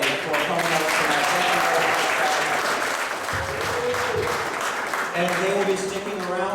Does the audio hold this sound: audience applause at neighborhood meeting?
yes